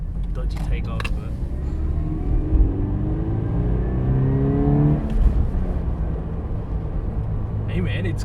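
A Toyota 86 manual rear-wheel-drive coupe accelerates with a steady engine rumble that climbs in pitch through the gear, heard from inside the cabin under ongoing talk from the occupants.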